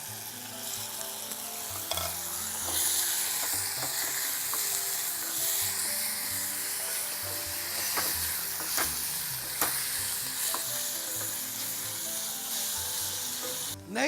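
Chicken pieces frying in a pan with spices for Thalassery chicken curry, a loud continuous sizzle and hiss with occasional stirring scrapes, close up and without voices.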